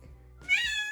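A white pet cat gives a single short meow close by, rising sharply after a moment of near quiet, with no talking over it.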